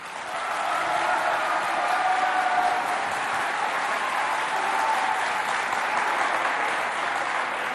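A school audience at a college quiz competition bursts into sustained, steady applause that swells quickly and holds evenly for several seconds without any talking.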